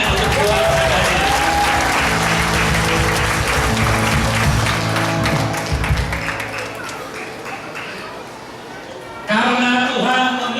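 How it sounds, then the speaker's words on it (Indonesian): An audience at a church Christmas event claps for a family, a dense burst of applause that fades toward the end before a short voice breaks in. "Kita beri tepuk tangan untuk keluarga ini."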